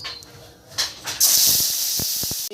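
Blended ginger and cumin paste dropped into hot oil for a fish curry, a sudden loud hiss that bursts in and keeps sizzling steadily, with a few clinks of a spatula after it.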